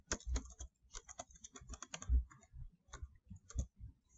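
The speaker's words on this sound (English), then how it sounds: "I'll type that in the search here." Steady typing on a computer keyboard into a database search box: a quick run of close, crisp key clicks with short pauses and a few heavier strokes, no voices.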